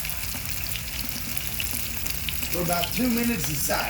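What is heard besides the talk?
ahi tuna steaks frying in a pan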